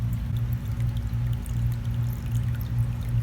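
Water is siphoned and scooped out of a home fish tank, giving a steady pouring, gurgling wash over a constant low pump-like hum, with no voices.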